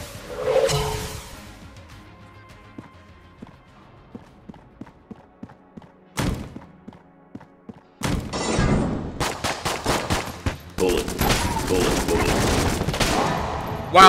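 Enter the Gungeon gunfire, with sparse sharp shots and pops early on, then dense rapid bursts of rattling, crackling fire as bullets fly, loud and close.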